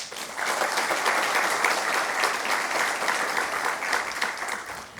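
An audience at a lecture event claps in a strong, sustained round of applause, dense and even throughout before easing slightly at the end.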